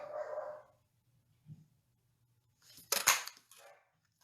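Dogs bark in a few short, sharp bursts indoors, the loudest cluster near the end and a small yelp partway through, all fairly faint and separated by quiet gaps.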